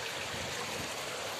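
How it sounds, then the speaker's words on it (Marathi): Rainwater streams across a flooded village road during heavy rain, a steady broadband rush of flowing water close to the microphone with no speech. "इकडं बघा पाणी बघा पण रस्त्याला किती चाललं."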